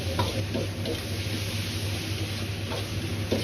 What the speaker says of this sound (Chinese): 炒乾多餘的水分